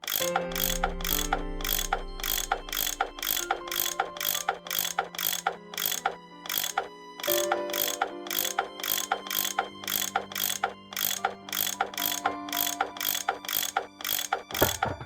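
A tool unscrewing bolts in the Nancy Drew game Last Train to Blue Moon Canyon: a steady, evenly paced run of ratcheting clicks that lasts throughout, over low sustained tones.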